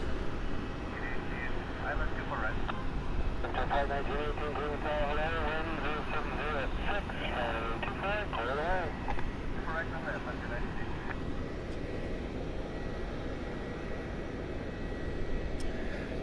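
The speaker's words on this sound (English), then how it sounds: "The United Express that just came in is wearing a merger livery." A United Express regional airliner arriving at Cleveland airport sets up a sustained broad engine rumble with a wavering whine. Faint voices murmur over it before the roar settles into a steady drone.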